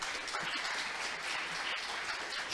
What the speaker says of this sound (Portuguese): salva de palmas pro Evandro